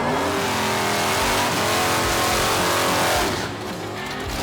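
A Buick drag race car with an engine that sat unused for about 16 years at the Buick GS Nationals, a loud sustained engine roar as it accelerates hard down the strip, fading slightly near the end.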